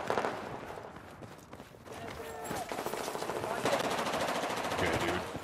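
Gunfire in a competitive video game match on the Dawnbreaker map: rapid automatic bursts and scattered shots with running footsteps, fairly loud and continuous, while players talk over it.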